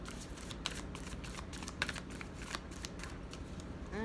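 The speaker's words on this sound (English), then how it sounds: "Last shuffle." A deck of tarot cards is shuffled close up, with soft, continuous riffling and papery slaps of card against card, no voices.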